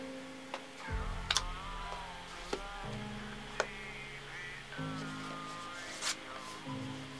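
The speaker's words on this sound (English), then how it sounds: "The noise you're hearing in the background is my laptop editing all the reaction videos I'm doing at the moment" A laptop running in the background while editing videos gives off a faint, shifting electronic whine whose pitch steps up and down, with a few small ticks and clicks scattered through it and no talking.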